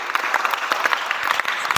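A classroom of students claps together for a classmate named Donita, a brief burst of dense, steady applause close by with no talking over it.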